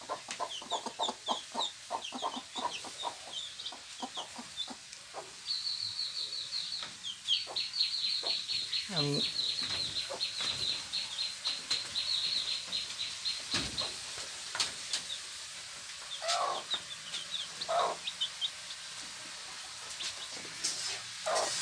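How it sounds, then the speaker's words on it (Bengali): Domestic hens in a small backyard coop cluck repeatedly, soft and fairly close, with a longer drawn cackle midway and faint background noise; a voice speaks briefly. "আরেকটা মুরগি 10টি ডিম দিয়ে বসানো হয়েছে।"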